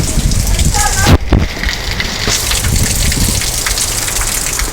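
Heavy rain pours steadily in Reno with water gushing, a dense continuous roar throughout with a brief louder burst near the start; a voice is faintly present.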